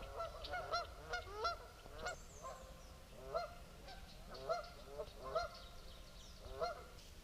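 Geese honking repeatedly in a noisy, overlapping chorus, fairly close, with calls rising and falling throughout, on a trail at Zaleski State Park in spring.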